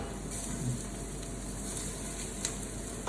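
Rice and onions frying in a pan for mushroom risotto, a soft continuous sizzle heard close and fairly quiet, with faint stirring.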